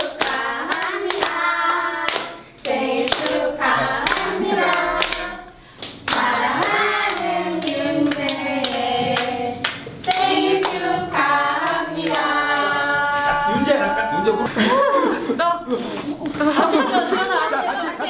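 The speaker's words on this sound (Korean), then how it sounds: "박수" Family members clap their hands together in celebration at home, bursts of applause mixed with lively chatter and laughter, with singing voices running over much of it.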